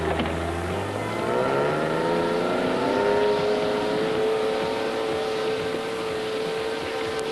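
A BV-206 tracked over-snow military vehicle drives in cold mountain terrain, its engine a loud, steady drone that slowly rises in pitch as it pulls ahead, with no voices.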